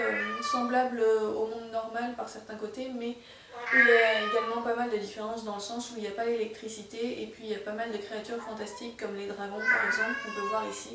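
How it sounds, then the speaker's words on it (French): A cat meows in a couple of short, bright bursts, partly masked by someone speaking French steadily over it. "Désolée pour le chat qui est très en forme aujourd'hui."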